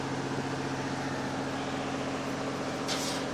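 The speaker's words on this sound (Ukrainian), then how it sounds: "така робота плазмореза" Plasma cutter cutting metal, a continuous loud steady hiss and hum with a brief bright burst near the end.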